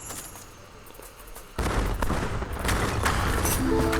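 Mortars pound a fortress in Age of Empires 3: Wars of Liberty, a sudden dense burst of rapid game explosions and gunfire that starts after a quieter lead-in and keeps rumbling loudly to the end.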